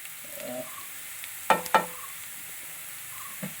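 Dal tempering is stirred in a non-stick pan over a faint, low sizzle, with two quick utensil knocks close together midway and a softer tap near the end. No speech.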